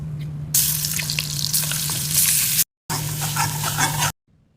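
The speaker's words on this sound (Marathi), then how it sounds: "आपण भरलेलं पापलेटचं वाटण आहे ना ते भाजून घेऊया." Masala stuffing paste for pomfret sizzles steadily as it roasts in a pan, loud and close, broken by a brief silence before the sizzle resumes and then cuts off.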